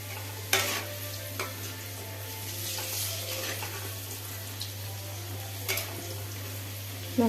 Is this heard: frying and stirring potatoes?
yes